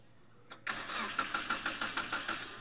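A car engine cranks briefly and catches with a sudden roar, then settles into a steady, pulsing idle, close and loud, with the gearbox in neutral during a driving lesson.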